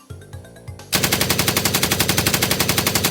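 Machine gun fire, rapid evenly spaced loud bursts in a sustained stream, preceded by a few softer thuds before the firing starts.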